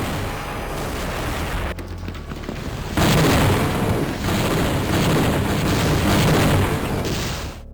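Explosion in the first-person shooter Gunman Chronicles: a loud, broad booming burst hits partway through and rumbles on with dense, noisy blasts filling the rest, with no voices.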